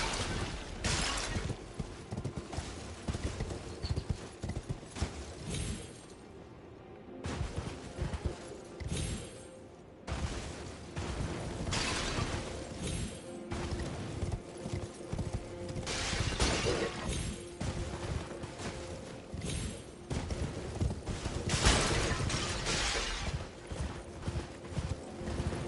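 Horse galloping in the Elden Ring DLC video game, a steady rapid clip-clop of hooves with crunchy impacts and occasional clattering bursts, loud and continuous throughout with game ambience underneath.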